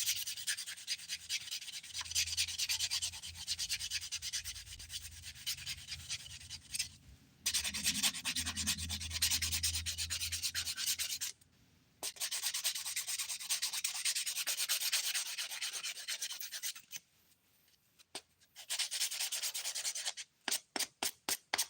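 Fingernails being filed during an at-home dip-powder manicure: close, scratchy back-and-forth rasping in long steady runs broken by a few short pauses.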